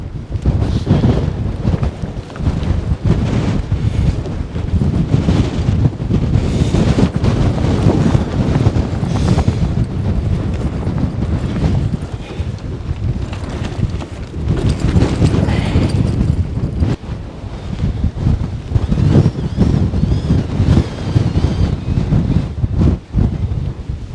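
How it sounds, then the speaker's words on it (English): Strong gusting wind from Storm Eunice buffets the microphone at a wild campsite with a Hilleberg Nammatj 3GT tent, loud, rough roaring bursts that swell and ease over a long stretch, and no one speaks. "Wind speed is only gusting up to about 70 or 25."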